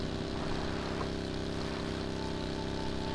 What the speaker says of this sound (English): Let me turn the engine off so you can hear the radio.